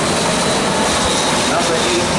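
A JetBlue jet airliner from San Juan, Puerto Rico, lands at Princess Juliana Airport in St Maarten, producing a loud, close, continuous engine roar that fills the whole short stretch.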